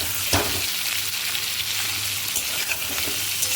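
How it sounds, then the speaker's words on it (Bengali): Continuous close sizzling and crackling of cauliflower frying in hot ghee, with occasional stirring scrapes and no voices. "কথা বলতে বলতে তো ভাজা হলো অনেকটাই, আর একটু হবে, আর একটু লালচে লালচে হোক"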